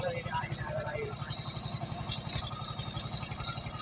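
A passing river trawler loaded with paddy chugs with a steady, rapid low engine thump that continues throughout while people talk nearby outdoors.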